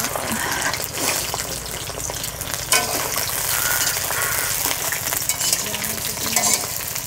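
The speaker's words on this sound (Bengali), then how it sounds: "প্রথমে পটল ভেজে নেব।" Pointed gourd fries in hot oil, a steady bright sizzle with the scrape of a spatula stirring through it, close and continuous.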